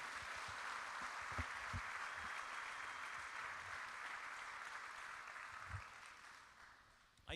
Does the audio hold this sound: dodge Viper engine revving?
no